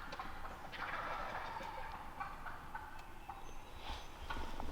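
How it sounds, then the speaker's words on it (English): Wild turkey gobblers gobble in the distance on a foggy morning, repeated rattling calls over a steady outdoor background, fairly faint and far away. "See, the gobblers still out there gobbling."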